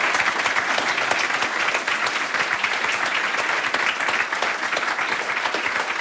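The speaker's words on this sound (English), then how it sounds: "could we have one more round of applause for the choir" An audience at a launch event claps for a choir, loud sustained applause from a large crowd filling the whole stretch with no talk over it.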